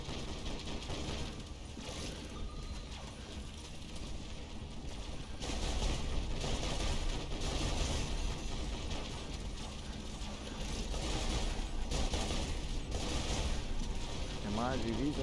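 Rapid bursts of support fire from Sky Tech units in a video game, a dense, rattling barrage running continuously under game music and effects, with louder stretches mid-clip and near the end.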